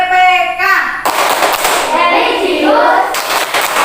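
A group claps out the rhythmic PPK clap chant in a school setting, with patterned hand claps mixed with chanting voices, loud and close.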